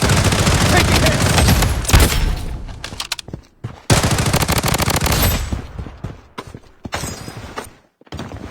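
Automatic and rapid gunfire from an MCX and an MP5 in the mobile shooter BloodStrike, loud dense bursts of shots with brief pauses between volleys and short game voice callouts.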